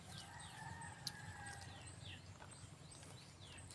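A rooster crows somewhat faintly in the background of a home kitchen, with a few high, drawn-out calls standing above a steady low rumble and clutter.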